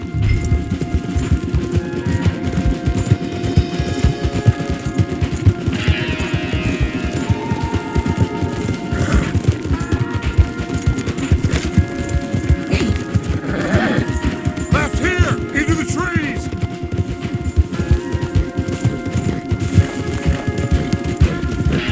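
Horses gallop hard in Red Dead Redemption 2, a dense, continuous drumming of hooves under a loud mix of music and game sound, with brief bits of talk and possible whinnies.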